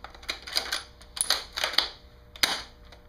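Bolt of a DBoys Kar 98 airsoft rifle cycled to eject shells: a run of sharp metallic clicks and clacks in a few quick clusters, close and fairly loud, with no talk.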